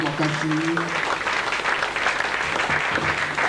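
A church congregation at a prosperity seminar applauds loudly and continuously, a dense close clapping wash with voices and a sung or called tone heard over it.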